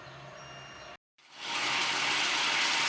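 Water goes into a hot pan of jaggery after a brief silence, setting off a rising, steady hiss that stays loud and close to the end.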